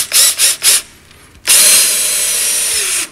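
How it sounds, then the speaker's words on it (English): A power drill whirs in three short pulses, then runs steadily for a long stretch, driving a T25 screw into wood, loud and close. "So let's go ahead and switch to the T25. And sink this in here."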